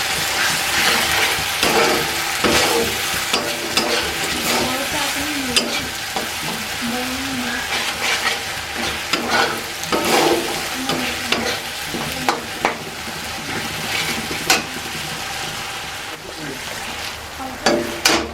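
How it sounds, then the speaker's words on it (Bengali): Spices with cumin powder are stir-fried in a pan for a Bengali papaya kofta curry, a dense close sizzle with repeated scraping strokes of a ladle, loud and steady throughout. "জিরে গুঁড়ো, এবার আমি সব মশলাটাকে ভালো করে কষিয়ে নেব"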